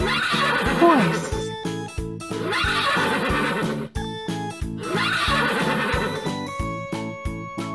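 A horse neighs, a whinny heard a few times and set against steady, loud backing music with a regular beat.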